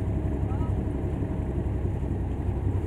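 A UTV ploughs through deep, sloppy Georgia clay water on a Durhamtown trail ride with its CVT exhaust fully submerged: a steady, muffled low engine rumble and water churn, close and continuous, with faint voices.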